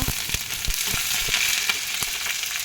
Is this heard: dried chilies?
yes